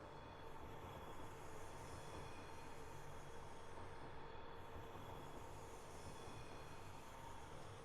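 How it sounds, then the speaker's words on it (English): A passenger train in a train simulator game rolls off into Queen Street Tunnel in Edinburgh, a steady low rumble of wheels and carriages with faint squealing, even and continuous, moderately distant, with no voices. "Let's watch that train head off into Queen Street Tunnel right up here."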